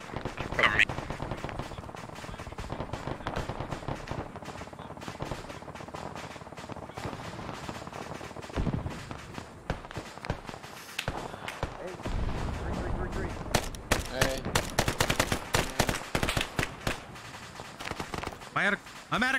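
Enemy gunfire crackles throughout a firefight in the video game ArmA 3, with repeated sharp shots and bursts near and far, growing into dense rapid volleys toward the end while players talk over it.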